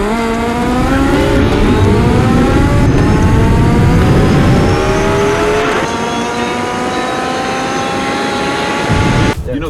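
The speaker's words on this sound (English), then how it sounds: "we had the opportunity to drag race the Rimac Concept 1 versus Alejandro's Porsche 918 last fall" Rimac Concept 1 electric hypercar drag racing a Porsche 918, loud sustained engine and motor roar with rising whine harmonics as the cars accelerate, with talk faintly underneath.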